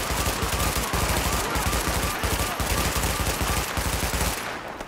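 Sustained automatic gunfire from The Division, a steady rapid rattle of shots repeating without pause for several seconds, loud and close, then fading briefly at the very end.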